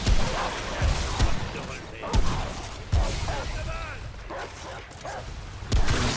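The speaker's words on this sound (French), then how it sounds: "C'est un chien." A dog barks in a few sharp bursts in the video game Remnant, amid noisy, busy background sounds, with brief pauses between the barks.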